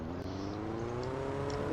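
A steady car engine hums at moderate volume with a low droning tone in the Roblox game New Haven County, holding a fairly even pitch throughout with no voices.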